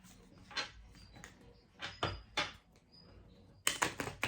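Tarot cards are shuffled by hand in a few separate quick bursts of papery riffling, with short quiet gaps between them and no talking.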